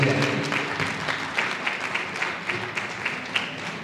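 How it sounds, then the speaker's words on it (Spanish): Audience applause at an evening group meeting, a steady dense clapping from many people filling the room throughout, moderately loud, with faint voices underneath. "recibámoslo con un fuerte aplauso"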